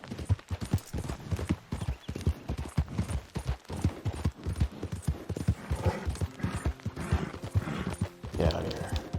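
Horse hooves clip-clopping at a gallop in the video game Red Dead Redemption 2, a steady rapid rhythm close and loud, with a rider's voice and an occasional whinny over it.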